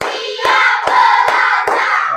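A group claps together in a counted classroom rhythm, four sharp unified claps spaced evenly under a steady background murmur of voices.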